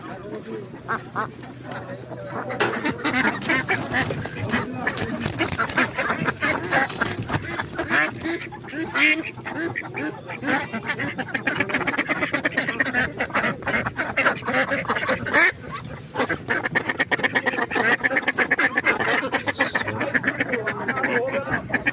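Ducks brought for sale on a toto quack loudly and repeatedly in a busy cluster, close by, mixed with people talking around them.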